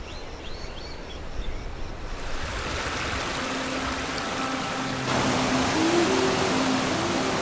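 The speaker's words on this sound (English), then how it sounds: "Right on the banks of the crystal-clear Debed River" The crystal-clear Debed River in northern Armenia flows with a steady hiss of running water, continuous and moderately close. Faint bird chirps sound early on, and the rush grows slightly louder toward the end.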